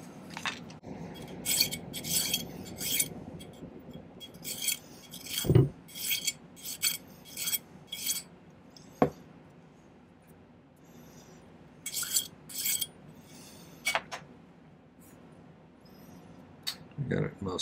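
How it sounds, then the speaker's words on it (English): Hand file cleaning up a soldered silver ring: short scratchy rasping strokes come in irregular bursts, separated by quiet pauses and a few sharp metallic knocks, close by and fairly faint. "now I'm going to do just a little bit of cleanup filing"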